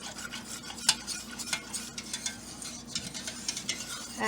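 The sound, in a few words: stirring chicken cordon bleu sauce mixture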